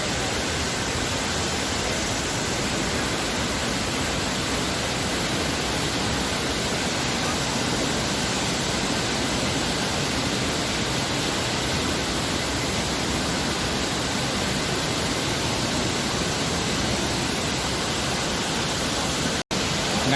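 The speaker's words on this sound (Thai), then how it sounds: "ที่สุดเราก็มาถึงน้ำตกวาแมกี อำเภอท่าสองยางจังหวัดตาก" Wa Mae Khi waterfall in Tha Song Yang, Tak, Thailand, reached along a forest hiking trail, pours out a steady, dense roar of falling water that runs unbroken and loud throughout.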